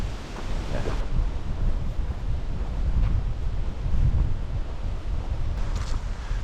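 Gusting wind buffets the microphone on a remote, wild backpacking trail in the Southern Uplands, a low rumbling roar that swells and fades, with no voices.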